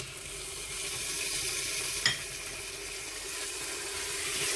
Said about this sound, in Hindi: अदरक लहसुन के पेस्ट को भी अच्छी तरह भूनेंगे।